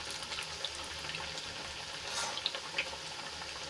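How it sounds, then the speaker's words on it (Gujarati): A steady hiss of methi bajra puris deep-frying in hot oil, low and even, with a brief swell and a few small pops near the end. "બંને બાજુથી આપણે સરસ રીતે ક્રિસ્પી થાય ત્યાં સુધી તળી લેવાની છે"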